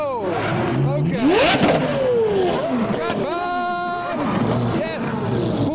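Supercars leaving SEMA 2023 rev their engines loudly nearby, several rising and falling sweeps overlapping as cars pass, with excited voices and crowd chatter underneath.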